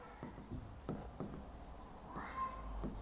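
Marker or chalk writing on a board during a lesson, a run of short scratchy strokes and taps up close, with a brief squeak near the end.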